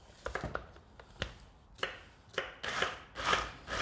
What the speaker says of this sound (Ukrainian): Так, я поки цибульку. Ти можеш подрібнювати.